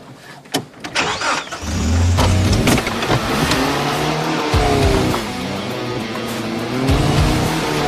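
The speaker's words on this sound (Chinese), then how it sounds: "那我带你兜兜风吧，让你见识见识我的丛林漂移车技" A car is driven hard on a jungle drift run, its engine revving loudly and continuously while tires squeal and skid, with brief sharper bursts early on.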